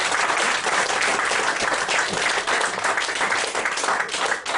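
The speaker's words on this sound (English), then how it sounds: "give him a round of applause" An audience at a live comedy mind-reading show applauds a volunteer, with steady, dense clapping that carries on without a break.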